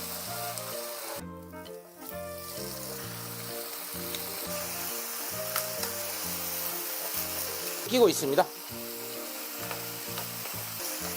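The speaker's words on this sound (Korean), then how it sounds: "아따, 자글자글 소리에 명절 분위기 이 정도 자글자글 해야 됩니다." Marinated LA galbi beef short ribs sizzle steadily on a hot grill, a loud continuous crackle over background music, with a voice speaking briefly.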